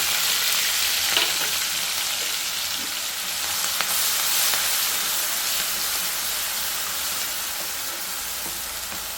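Green chili paste with curry leaves sizzles and fries loudly in hot oil for coconut rice, a steady close hiss with occasional stirring scrapes and no talking.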